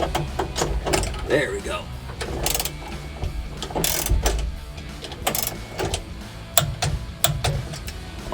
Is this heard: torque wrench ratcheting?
yes